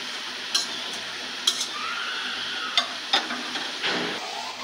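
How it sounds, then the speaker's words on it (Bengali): Lentil and onion fritters frying in oil give a soft, low sizzle, broken by a few sharp clinks of a metal utensil against the pan. "আরেক পাশও ভেজে নেবেন গোল্ডেন ব্রাউন করে"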